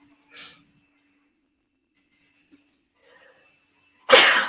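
After a short breathy puff and near silence, a single loud, sharp sneeze bursts out close by at the very end.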